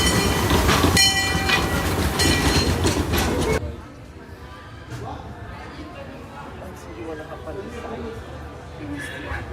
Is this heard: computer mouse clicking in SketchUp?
no